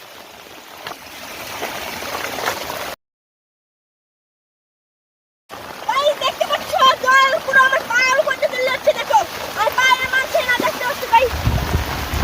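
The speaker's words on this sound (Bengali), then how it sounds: "দেখো দারুণ দারুণ জলের জলের স্পিডটা একবার দেখে নাও কি পরিমাণ জলের স্পিড পাচ্ছে" Heavy rainwater rushes in a steady torrent off a flooded village field after a downpour, a broad roar that cuts out briefly and then returns beneath a voice talking loudly close by.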